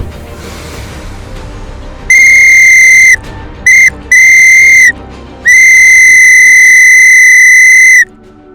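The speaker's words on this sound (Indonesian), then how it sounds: "menggunakan peluit dari kotak keamanan yang sudah disiapkan untuk menarik perhatian orang di sekitar" A loud, shrill whistle blows in several bursts: one long blast, two short toots, another medium one, then a final sustained blast.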